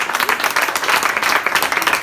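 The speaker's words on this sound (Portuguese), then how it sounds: "Aplauda seu em nome de Jesus" A street crowd at an outdoor church service claps and applauds steadily, a dense flutter of many hands at close range.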